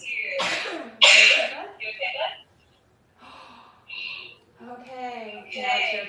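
A single sharp human sneeze bursts out loud and close near the start, amid a calm children's meditation session, followed by a few breathy sounds and brief talk afterward.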